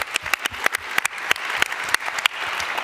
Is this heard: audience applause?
yes